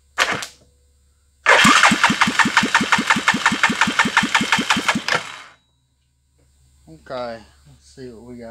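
A Hisun UTV engine cranks on jumper cables after carb cleaner, with a brief burst first, then a rapid rhythmic cranking chug for about four seconds that stops without catching, followed by someone talking.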